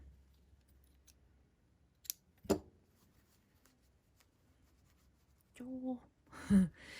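Scissors snip yarn on a crochet amigurumi figure, a couple of sharp close clicks in a quiet room, followed later by brief soft voice sounds.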